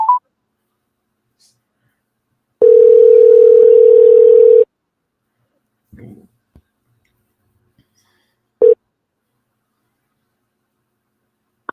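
A single loud, steady tone from a phone call lasts about two seconds, followed by a few faint clicks and a short beep, with long silences between.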